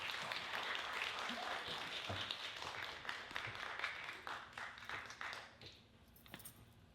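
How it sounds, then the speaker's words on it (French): Audience applause at a peace and nature gathering: quiet, distant clapping from a crowd that holds steady for about five seconds, then fades out, leaving a hushed room. "je vous invite à lui donner une belle main d'applaudissement"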